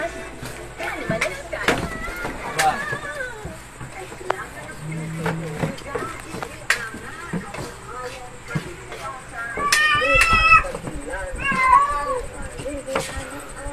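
A pet cat meows a few times in a home kitchen where brittle cashew nuts are being made, with short mewing calls mixed in among ongoing talk and clattering background noise.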